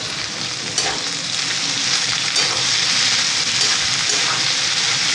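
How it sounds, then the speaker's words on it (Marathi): Drumstick pods fry in hot oil over a high flame while being stirred, producing a loud, steady sizzle with scraping stir strokes throughout. "आता ही आपण ह्याच्यामध्ये टाकूया तेलामध्ये आणि हिला पण तेलामध्ये आपल्याला छान परतवून घ्यायचं आहे"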